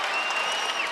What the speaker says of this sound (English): We're going to hear the crowd on this.